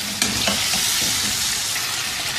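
Lamb (dumba mutton) meat sizzles loudly in hot oil in a karahi, a steady dense frying hiss with a sharp burst as it goes in, close and continuous without talk.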